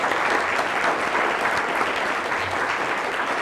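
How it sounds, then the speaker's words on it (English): Audience at a presentation in Temple Beth El, Portland, Maine, clapping steadily, a dense, continuous patter of many hands filling the room without pause. "So can we give them a round of applause"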